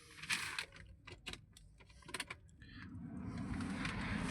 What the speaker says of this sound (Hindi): अब चाबी को लगाते हैं अंदर